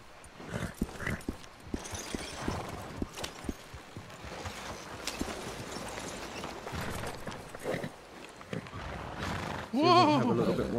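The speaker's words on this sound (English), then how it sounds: "You should feed that horse." Horse hooves clip-clop along with a short whinny in a video game, mixed with people talking throughout, and a louder burst near the end.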